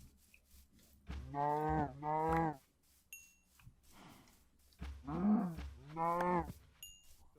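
Cows in a video game moo in four drawn-out calls, arriving in two pairs separated by a quiet gap, fairly faint and set against light background sound.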